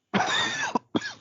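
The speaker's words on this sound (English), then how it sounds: "it's a nice little cough there you got." A single hard, raspy cough lasting most of a second, followed by a short breath and a second, briefer cough burst, close and loud with no talk over it.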